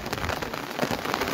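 Heavy rain pours down on an open ground in Shimla, a dense, steady hiss of drops striking the surface close by, with no voices.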